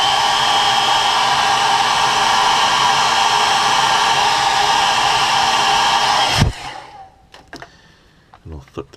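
A heat gun blows steadily and loudly while setting paint on a walleye crankbait, a constant broadband roar that cuts off abruptly near the end, leaving a few faint clicks and handling sounds.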